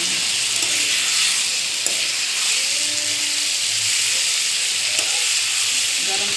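Boiled potatoes and spices frying in a pan are stirred steadily, giving a continuous close sizzle and hiss with soft scraping, no voices present.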